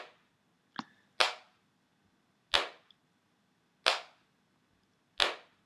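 Hand claps with a short delayed copy layered on each, producing a flamming echo effect: four sharp, evenly spaced claps about 1.3 seconds apart in a quiet room, preceded by a smaller click.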